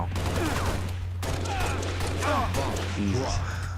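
Halo Reach multiplayer gunfire, DMR rifle shots cracking in quick repeated bursts among other weapons over a steady low drone, with a player talking throughout.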